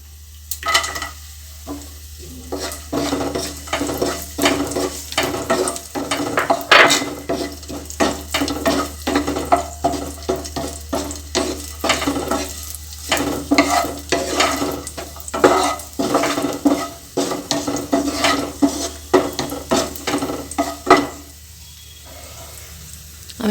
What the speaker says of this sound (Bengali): আমি ভেজে নিয়েছি ভালো করে।